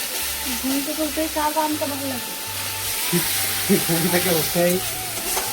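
Meat being braised and stir-fried for Bengali mangsho kosha, a steady sizzle with scraping stirs in a home kitchen, with a voice talking over it in places.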